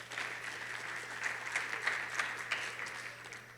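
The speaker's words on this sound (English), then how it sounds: "a hearty round of applause for the dedicated teachers and staff of the Next Step." Graduation ceremony audience giving a round of applause for teachers and staff, steady moderate clapping throughout with no speech over it.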